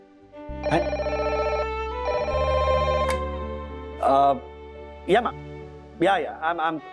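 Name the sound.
telephone ringing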